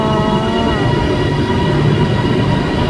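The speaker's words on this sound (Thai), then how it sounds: "รถไฟมาแล้วอันนั้นรถไฟจะจะไปไหน" A Bangkok Airport Rail Link train arrives at the station with a steady, loud rumble of wheels and carriages that fills the whole stretch, and a faint voice can be heard underneath it.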